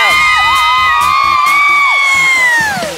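A group of children shout and cheer together, loud and close, in a sustained burst over a bouncy children's song backing track.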